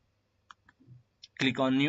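A computer mouse clicks a few times, soft and close and spaced apart, before a voice begins talking over the end.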